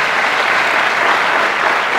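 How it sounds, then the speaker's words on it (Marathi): An audience claps steadily throughout a principal's address at a college student induction programme, a dense, even wash of applause with no speech over it. "त्याच्यासाठी सुद्धा टाळ्या वाजवल्या पाहिजे."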